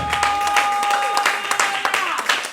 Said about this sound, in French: Ton acclamation pour le Saint-Esprit est un peu timide.